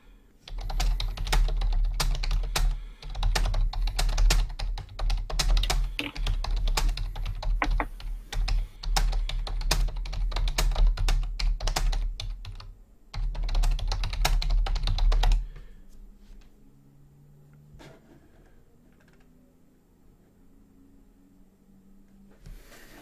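Fast typing on a computer keyboard, close and loud, with dense clattering bursts and a short pause, then the keys stop and only quiet room noise remains.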